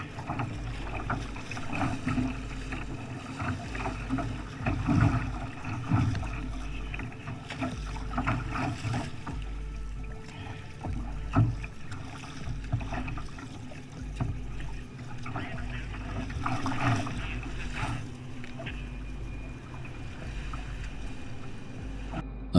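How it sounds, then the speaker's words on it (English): Gusty wind of up to 40 miles per hour buffets the microphone in a low, continuous rumble while water sloshes around a kayak paddled into a strong headwind. "kayaking against a strong headwind with gusts of up to 40 miles"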